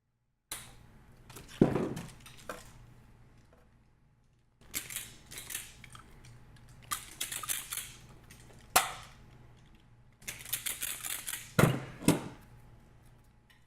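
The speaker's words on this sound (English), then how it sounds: "Since these wires are so thin, I just cut it longer and then fold it over." Thin transformer wires snipped with cutters, a few sharp clipped snaps in separate bursts with quieter handling noise between, close up and alone.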